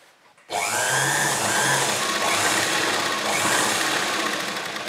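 A sewing machine stitches the panels of a front-open, three-panel kurti, starting after a brief quiet lead-in and then running as a steady, fairly loud mechanical whir with a slight rhythmic chatter. No one speaks.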